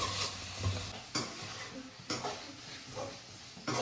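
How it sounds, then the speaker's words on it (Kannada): Tempering for cabbage palya being stirred in a pan: a spoon scrapes and clinks against the metal in several distinct strokes over a soft ongoing sizzle, heard up close with no voices. "ಪಲ್ಯಕ್ಕೆ ಒಗ್ಗರಣೆ ಹಾಕೋತಾ ಇದ್ದೀನಿ."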